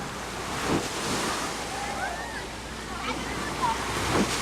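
Strong ocean waves roll and wash up on a beach, a broad continuous surge with wind rumble on the microphone and distant voices calling out.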